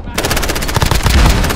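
Rapid automatic gunfire from an MP7 submachine gun in Call of Duty (2019) team deathmatch: dense, loud bursts of shots fire nonstop with a heavy low thump and sharp crack, continuing without a break.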